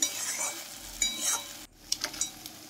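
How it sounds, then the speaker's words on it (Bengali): Fried potato pieces being sautéed with spices in a pan for a prawn curry: soft oily sizzling under a few scraping, clinking stirs of a utensil, close, with a short pause midway before more stirring. "এবার আমি ভেজে রাখা আলুর টুকরো দিয়ে মশলার সঙ্গে বেশ ভালো করে কষিয়ে নিচ্ছি।"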